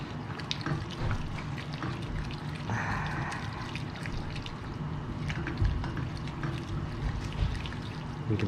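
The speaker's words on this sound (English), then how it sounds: "So you'll see the chicken's still here cooking." Ground chicken simmering in a pan with sauce for a soboro donburi, giving a steady, close bubbling sizzle with faint stirring ticks and no talk.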